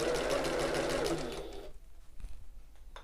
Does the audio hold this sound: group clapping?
no